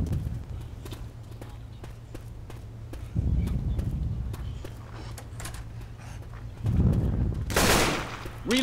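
Gunfire from shooting zombies in Left 4 Dead 2 crackles as rapid repeated shots through much of the clip, with heavier bursts and a loud blast near the end, over game ambience and occasional voices.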